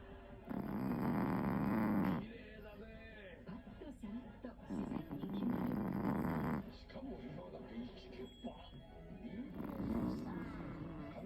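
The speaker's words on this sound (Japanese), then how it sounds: "15歳の姫様がいびきをかいてます。" A 15-year-old pet snores while sleeping soundly, long rasping breaths that swell loudly and fade in a slow repeating cycle, close by and alone.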